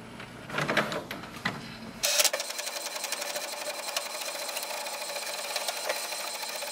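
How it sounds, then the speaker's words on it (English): An HP Envy 6032e printer runs a two-sided copy. Faint mechanical clicks come first, then a sudden louder whir of steady feeding and printing noise with small rhythmic ticks. "So this way we can do the two-sided copy with this printer"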